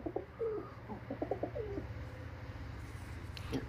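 Soft, repeated cooing of pigeons, several low throaty calls close by over a steady background hum, trailing off near the end.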